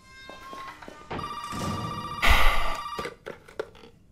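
Telephone bell ringing inside the Resident Evil 7 video game, a repeated electronic ring in bursts with a louder stretch midway, heard alone over faint game ambience.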